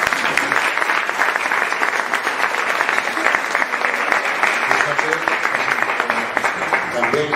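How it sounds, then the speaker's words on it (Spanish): Applause from a seminar audience at a university research institute: a dense, steady patter of many hands clapping close by, sustained throughout with some voices mixed in. "Fíjate que casi nunca en el seminario aplaudimos."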